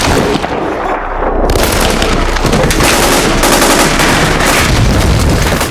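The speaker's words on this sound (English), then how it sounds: "After a burst of intense gunfire and explosions" Intense film battle audio: loud, dense bursts of rapid gunfire mixed with booming explosions, continuous and overwhelming for several seconds without speech.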